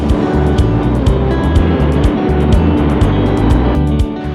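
Car driving around the Spanish coastal town of Calpe on the Costa Blanca, with a steady loud engine drone and road rumble throughout, heard from inside the car with no talk.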